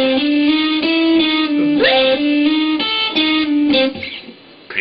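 A guitar played with hybrid picking imitates a metronome, repeating even, clicky distorted notes in a steady pulse, loud and close, alone.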